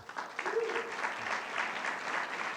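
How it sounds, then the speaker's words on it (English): An audience applauds at a school board candidate forum with steady, dense clapping that holds at an even level through the whole short stretch, heard from within the room with no one speaking over it. "I give these folks a big round of applause"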